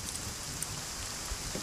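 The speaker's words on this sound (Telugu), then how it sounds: "వర్షం ఇప్పుడప్పుడు తగ్గేటట్లేదు." Rain falls outside a bachelor's room, a soft even hiss with faint scattered drips, quiet and steady with no talking.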